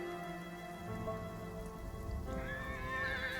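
A horse neigh sound effect rises near the end over a steady rain-like wash of ambience, heard in a Call of Cthulhu tabletop game session; the whinny is brief and moderately loud, with no speech.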